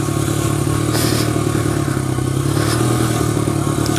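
A 2001 Honda XR100R motorcycle's small engine runs steadily up close, with a constant mid-pitched drone and some mechanical clatter throughout and no voices.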